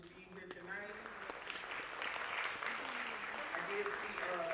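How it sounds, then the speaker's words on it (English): Audience applause at a school band holiday concert rises as a broad wash of clapping beneath voices talking over it, steady and moderately loud throughout. "If you guys could give them a round of applause for just being here tonight."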